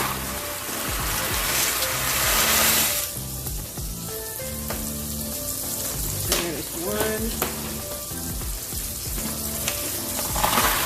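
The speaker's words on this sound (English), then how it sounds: "I'm gonna go ahead and add my pasta to the boiling water" Steady rushing and bubbling of water at a rolling boil, with clinks and splashes as dry pasta drops into the pot.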